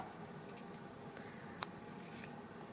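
Scissors cut fabric for a 1/4 inch seam while sewing a frog mobile, with quiet, close snipping and soft rustling and one sharp click near the middle, with no talking.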